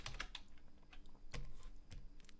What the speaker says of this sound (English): I need to type in